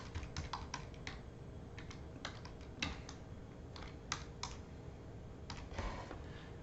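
Quiet, close computer keyboard typing a page title, rapid irregular key clicks in short runs with brief pauses throughout.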